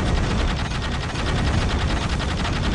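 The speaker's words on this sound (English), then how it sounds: "Taking heavy fire!" Rapid continuous automatic gunfire in the Dawn of War: Dark Crusade strategy game, a loud, dense rattle of evenly spaced shots with no pauses and no talking.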